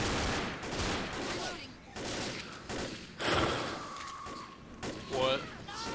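Gunfire in the co-op zombie shooter Left 4 Dead comes in rapid bursts and single cracks, with gaps between volleys and voices talking over the fighting.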